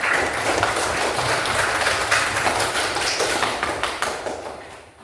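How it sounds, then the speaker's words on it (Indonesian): A fourth-grade class claps together in dense, steady applause that holds for several seconds before tapering off, with no talking over it. "Baik, tepuk tangan untuk kita semua."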